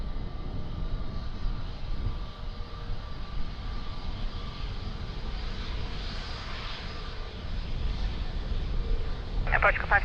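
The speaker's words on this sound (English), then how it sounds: "Not the nicest landing." An airliner lands at Lisbon Airport, heard as a steady broadband engine and wind roar that swells slightly toward the end, fairly distant, with faint voices underneath.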